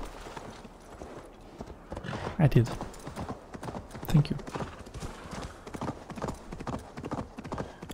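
Horse hooves clip-clop in a steady trotting rhythm in Assassin's Creed Valhalla, close and clear under someone talking, with a couple of heavier thumps partway through.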